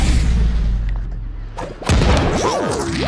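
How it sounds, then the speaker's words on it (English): Pirate cannons fire in SpongeBob: The Cosmic Shake game, a heavy boom cutting through loud game noise midway, followed by swooping, whistling sound effects. "Let me show you how a real pirate uses these cannons."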